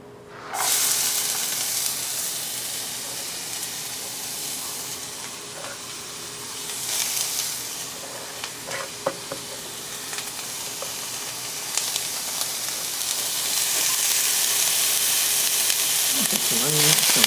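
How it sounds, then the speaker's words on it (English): Onions and mushrooms fry in olive oil in a hot pan, giving a steady, close sizzle with crackles and spits that swell louder toward the end, with no talking. "We're going to put a little bit of olive oil with a nice hot pan."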